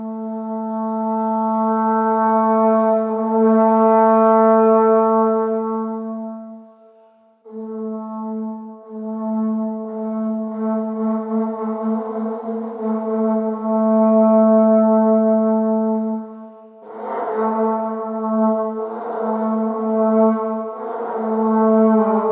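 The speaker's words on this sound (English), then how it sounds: "The first instrument that he was supposed to play was the horagai, which is a sea snail." Horagai, a Japanese conch shell horn made from a sea snail shell, blowing long sustained foghorn-like tones, one held note that breaks and resumes, then wavering pulses near the end, loud and close with no talk.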